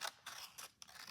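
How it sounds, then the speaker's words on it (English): Scissors snip through a strip of brown paper in a few short, crisp cuts with brief pauses between them, close and fairly quiet, with no voices. "I'm going to cut off a strip of brown paper and I'm going to fold it in half"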